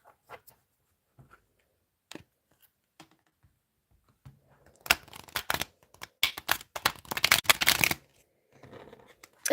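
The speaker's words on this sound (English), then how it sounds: "One more shuffle." Tarot cards are shuffled close by: a few light taps and clicks, then a quick run of crisp riffling bursts lasting a few seconds.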